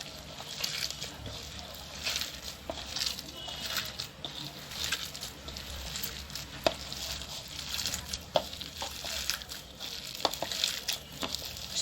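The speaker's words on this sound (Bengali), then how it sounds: "এখন সব আমি একসাথে মথে নিচ্ছি।" Hands squish and knead a cabbage pakora mixture in a bowl, a steady close-up wet rustling with small crackles and taps throughout.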